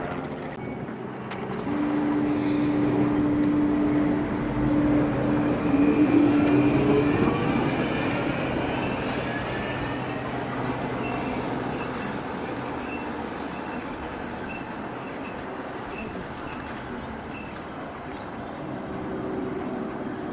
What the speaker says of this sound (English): this train here is for Battersea,